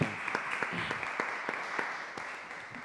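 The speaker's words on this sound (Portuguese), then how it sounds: "Uma grande salva de palmas." Audience applause closing an academic debate on Axel Honneth's critical theory, a fairly faint, diffuse patter of many hands with a few sharper claps standing out, heard from a distance and steady throughout.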